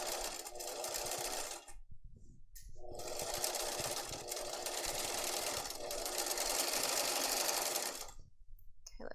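Sewing machine running a reinforced shoulder seam on a top, loud close whirring in long sustained bursts broken by two short stops.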